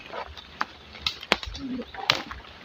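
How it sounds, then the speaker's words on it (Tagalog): Soft cooing and a few flaps of wings from a pigeon-like bird, fairly close, mixed with quiet background noise and a brief voice. "Laki ng ibon galing dyan."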